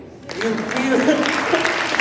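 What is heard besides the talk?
congregation clapping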